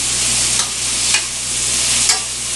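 Shrimp sizzle steadily and loudly in a pan for a shrimp Marsala. A constant broadband hiss is broken by three brief swells of crackling or stirring, and nobody speaks.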